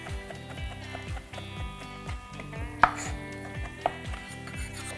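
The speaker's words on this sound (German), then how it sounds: "weiter getrocknete Tomaten. Das auch kleine schneiden." Knife chopping dried tomatoes on a board while preparing a vegan spaghetti bolognese, a steady run of soft close cuts with two sharper knocks, all beneath continuous background music.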